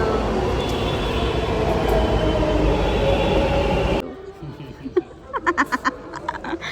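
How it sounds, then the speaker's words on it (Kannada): A metro train at Vijayanagar metro station in Bengaluru roars loudly and steadily for about four seconds, then the sound cuts abruptly to a much quieter platform scene with brief voices. "ನಾವಿನ್ನು ವಿಜಯನಗರ ಮೆಟ್ರೋ ಸ್ಟೇಷನಲ್ಲಿದ್ದೀವಿ. ಮೆಟ್ರೋ ಬಂದು"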